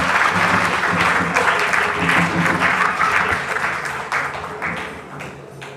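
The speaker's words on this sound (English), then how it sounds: "Please, let's give them another round of applause." A large audience at a parliamentary inauguration event claps in a dense, loud round of applause that fades gradually toward the end, with no talking over it.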